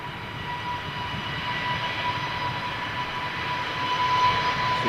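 An Airbus A320neo departs London Heathrow, giving a continuous engine roar with a faint steady whine riding on top, growing slightly louder toward the end, with no one talking.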